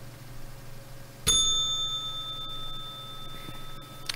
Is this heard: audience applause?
no